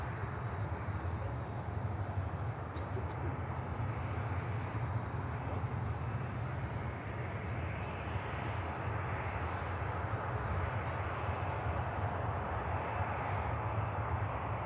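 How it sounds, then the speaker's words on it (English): Ryanair jet from Dublin landing at Manchester Airport, a faint, distant steady engine rumble that holds evenly throughout with no talk. "Great touchdown on the Ryanair, that really silky touchdown."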